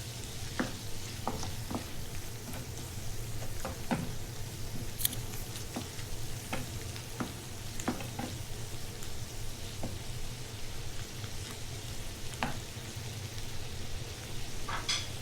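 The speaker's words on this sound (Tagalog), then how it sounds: "Sautay lang natin siya with the mushroom." Parsley and mushrooms sautéing in a pan, a steady close sizzle with scattered clicks and scrapes from stirring, continuous at low level without talk.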